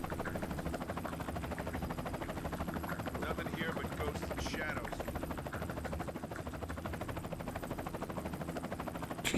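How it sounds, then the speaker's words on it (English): A loud helicopter in the Splinter Cell video game gives off a steady, pulsing rotor thrum that fills the whole stretch without letting up. "is that a loud helicopter?"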